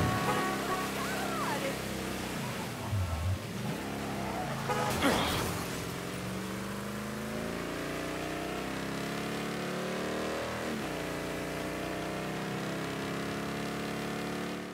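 A car driving in the Mafia 3 video game, a steady engine drone with rising and falling pitch sweeps as it accelerates and shifts. The engine sound carries on continuously, with one louder burst partway through.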